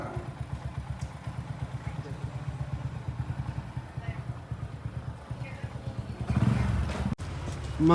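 A motorcycle engine chugs close by in rhythmic low pulses, then revs up louder near the end as it pulls away, with people talking nearby.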